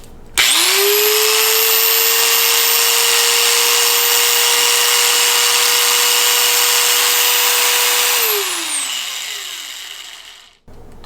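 A Bauer finger belt sander, a compact belt file, whines steadily at high pitch for about eight seconds close up, then its tone falls away as it spins down and stops.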